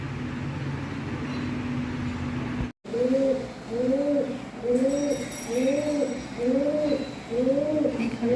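Pigeons coo in a steady series of soft, rolling calls, repeating about every half second, close by after a brief pause at the start.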